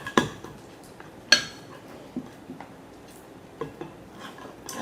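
A utensil stirs a homemade slime mixture in a bowl, giving a few sharp clinks and scrapes against the container, then softer intermittent taps close by.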